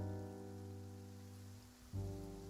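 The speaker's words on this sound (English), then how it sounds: "It's raining." Rain falls in the Genshin Impact video game, a soft continuous hiss beneath sustained, droning background music tones.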